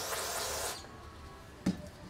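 Aerosol cleaner sprayed into the primer housing of a small engine, a steady close hiss for about three quarters of a second, then a brief faint spurt near the end.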